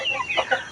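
Chickens cluck in a short burst of a few quick, close calls at a farm on a mountain, loud and clear with no talking.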